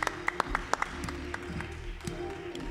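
Hands clap in a church congregation during worship, a few sharp claps standing out over a murmuring crowd and low music, with a voice briefly audible.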